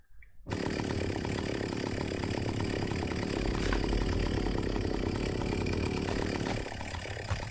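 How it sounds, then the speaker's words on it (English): A chainsaw-wielding enemy in the video game Them and Us revs a chainsaw steadily for several seconds after a brief quiet start, a loud continuous buzzing drone that drops slightly near the end. "I think this leads me to the room with the chainsaw guy"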